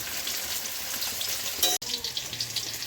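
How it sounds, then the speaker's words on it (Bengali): Soya chops fry in hot oil for a vegetarian meat dish, a close, steady crackling sizzle with a sharp clunk partway through and no talk. "সয়া চপ কিন্তু ভাজি করা হয়ে গেল প্রায়, দেখতে পাচ্ছ লাল হয়ে গেছে।"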